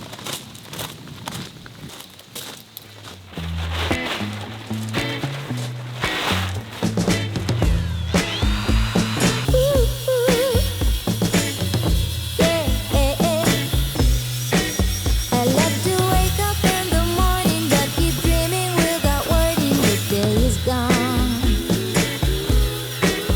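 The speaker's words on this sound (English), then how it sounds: "I had intended on just smoothing this down using the sanding pad on the grinder" A power grinder with a sanding pad whines steadily for a long stretch while stripping paint, its pitch wavering as it works against the surface, loud and close after a quieter start.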